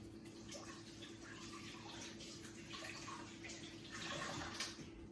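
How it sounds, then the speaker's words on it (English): Steady, faint running water from a tap over a sink while hands are washed in a kitchen, a soft continuous hiss with light splashing and no talk. "what I'm going to do is wash my hands again"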